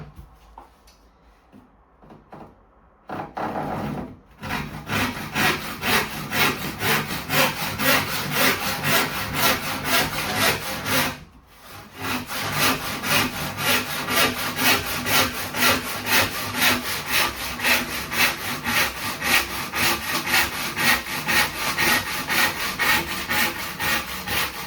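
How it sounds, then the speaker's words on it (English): A hand saw cuts through a wooden windowsill with steady, rapid back-and-forth strokes that go on after a brief pause, loud and close with no talking. "So I'm going to cut the windowsill down size now to 1150."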